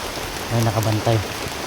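Rain falls steadily as a soft, even hiss, with a short stretch of voice-like tones rising briefly above it midway.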